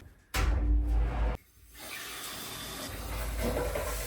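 Shower water running at home, a loud burst of spray that cuts off briefly, then resumes as a steady, softer rushing hiss.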